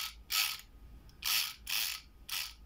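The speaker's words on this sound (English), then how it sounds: "The Chronos electric pick gun." Chronos electric pick gun buzzing against a padlock in four short mechanical bursts separated by pauses, close and loud with no voice.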